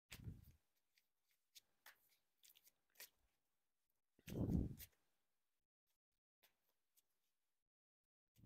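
Oracle cards being shuffled by hand, with short scattered papery flicks and one longer, fuller shuffle in the middle, close and quiet with no talking.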